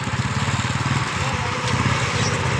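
A motorcycle engine chugs steadily close by, a loud, even, rapid putter that holds throughout.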